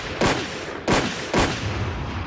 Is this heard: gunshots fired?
yes